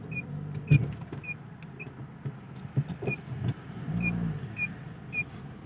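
A manual Renault Clio reverses slowly into a parking space during a driving lesson, with quiet engine hum, occasional creaks and clicks, and a faint repeating chime.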